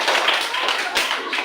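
A classroom of students gives a brief round of applause for a classmate, with quick, dense clapping that stays loud and near for the whole moment.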